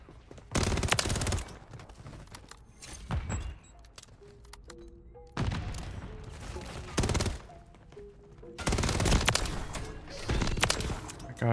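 Gunfire in the video game Call of Duty MW3 from a WSP Swarm build, with dense bursts of rapid automatic fire in several long volleys separated by short gaps, loud and close, with a voice in between.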